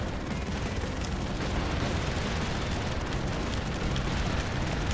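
In the Broforce game, terror cannons fire amid a continuous barrage of explosions, a dense, loud, rumbling roar of blasts with no gaps.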